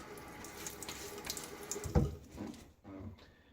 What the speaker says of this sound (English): a bit of water on my face